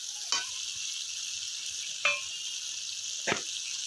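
Spice paste for a cauliflower roast fries in a pan with a constant bright sizzle, broken three times by a brief scrape of stirring.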